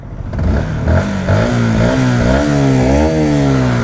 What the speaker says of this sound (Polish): fajny motorek a jaki odgłos